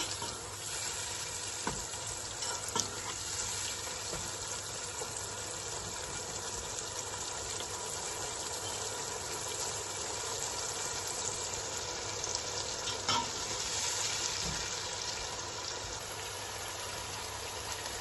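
Peas frying in a pan for mattar pulao, giving a steady soft sizzle with occasional faint stirring clicks, continuous and alone with no talking.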